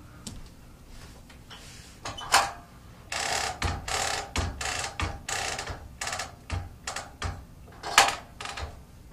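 A longarm quilting machine advancing the quilt in basting mode: a series of close mechanical clunks, whirs and ratcheting bursts in irregular rhythm, with brief pauses between, no talk.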